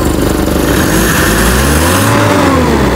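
Carbureted Toyota 4K engine revving up and down with a loud, close, continuous drone that rises and falls in pitch, running with a sluggish throttle response.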